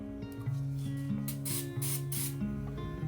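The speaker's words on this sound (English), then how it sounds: "I'll spray and roll and spray and roll" Paint stripper sprayed from an aerosol can onto a lightsaber part, in repeated hissing bursts over a steady low mechanical hum, close by.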